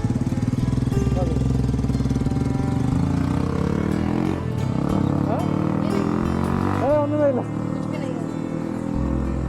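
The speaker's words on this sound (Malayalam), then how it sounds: "ഞാൻ നമ്മുടെ ബൈക്ക് ഇവിടെ നിന്ന് സ്റ്റാർട്ട് ചെയ്യുന്നത്" A Yamaha RX135 motorcycle engine starts, chugs and idles close by with a rough mechanical rumble, a few revs rising and falling, while a voice talks over it.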